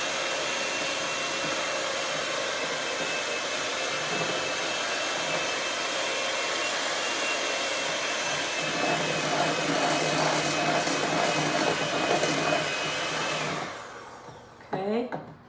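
An electric mixer beats ginger molasses cookie dough in a home kitchen, a steady loud whirring drone that runs for most of the stretch, then winds down and stops near the end.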